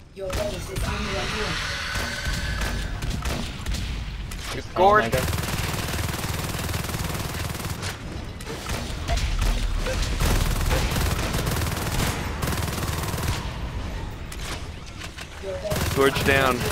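Sustained automatic gunfire from Marines shooting at a fade alien in the Natural Selection 2 game, with a sharp burst near the middle and bursts continuing to the end. Voices talk over the shooting.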